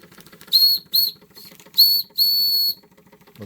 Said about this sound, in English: Sound that whistle